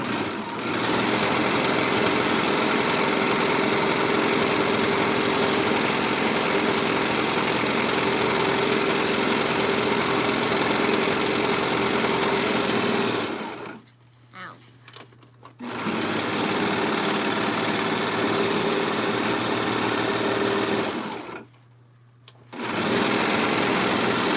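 A serger sewing machine runs in long, steady bursts while stitching a dress side seam, its loud, even whir broken by two brief pauses before restarting.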